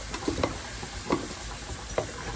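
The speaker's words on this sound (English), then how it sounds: "we're going to let that flour cook, right?" Flour cooking in a hot pan, with mushrooms, while making smothered hamburgers: a soft, steady sizzle with a few light scrapes of stirring, close and alone.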